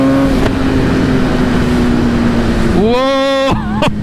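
Kawasaki ZX-10RR superbike engine holding a steady high drone, then revving sharply upward near the end, loud and close with constant wind rush.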